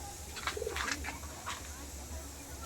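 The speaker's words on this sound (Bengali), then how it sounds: "সাগর ভাই পায়রাগুলো সব আজকে উড়িয়ে দিয়েছে" Pigeons coo a few times near the start amid a steady low hum and light background noise, then the sound settles into quiet ambience.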